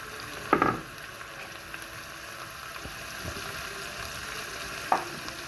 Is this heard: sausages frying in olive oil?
yes